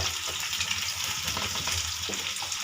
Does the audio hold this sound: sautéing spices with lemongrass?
yes